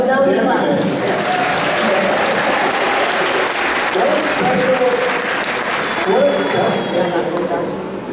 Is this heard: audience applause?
yes